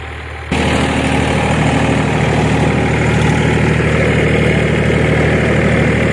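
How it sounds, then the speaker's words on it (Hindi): A tractor engine idles loudly and steadily with a low rumbling throb, starting abruptly and running on without pause. "राजा उसको चढ़ाए ट्रैक्टर पे, आलू डाल रहा।"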